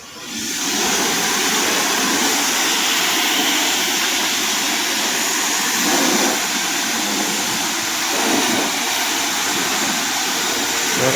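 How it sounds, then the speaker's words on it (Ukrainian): A pressure washer blasts water onto a car during washing, a steady loud hissing roar that starts abruptly and holds nearly constant for about ten seconds, close by and with no talking. "Воду нажимаємо, во, вода."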